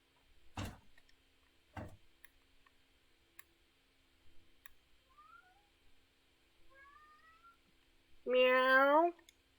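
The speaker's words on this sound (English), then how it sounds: "Sorry, that's my cat." A house cat gives one loud, drawn-out meow near the end, preceded by a few soft clicks and faint tones in an otherwise quiet room.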